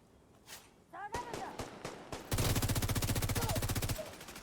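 Enemy gunfire in The Division 2: a few scattered single shots, then a sustained, rapid burst of automatic fire rattling close and loud for well over a second.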